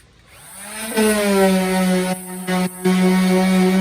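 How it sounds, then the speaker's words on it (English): A steady, loud power-tool whine with a strong low hum while sanding body filler on an EZGO TXT golf cart body, cutting out briefly twice before resuming; no voices. "I have to start sanding."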